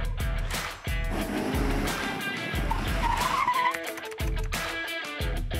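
Cars brake hard during a driving skills course, with repeated loud tire screeches and skids over engine noise, close and sustained across several passes.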